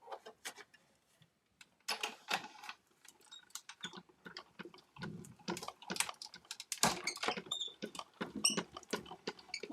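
Manual die cutting machine rolling a die through card stock for a Valentine's card, heard as dense clicking, crunching and ratcheting pressure sounds up close, continuing steadily with brief pauses and no talk.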